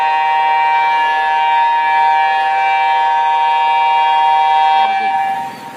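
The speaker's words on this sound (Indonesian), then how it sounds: "Pengecekan alat di tower tsunami, persiapan penghidupan" A tsunami warning siren sounds during a test at a tsunami tower, a loud steady wail from close by that drops away at the end.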